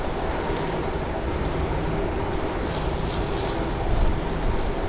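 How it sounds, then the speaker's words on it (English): Steady wind roaring along the Boscombe Overcliff seafront at night, a constant broadband rush with surf and gusty microphone buffeting, loudest briefly near the end, with no talking. "We got wind behind as well."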